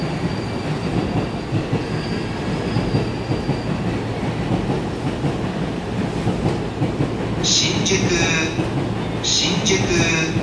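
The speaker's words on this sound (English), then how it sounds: "E231. Zero series arriving into platform 13 for the Chuo-Sobu line" An E231-0 series Chuo-Sobu local line train pulls into platform 13 at Shinjuku station, a steady loud rumble of wheels and carriages running throughout, with sharp high wheel squeals breaking in near the end.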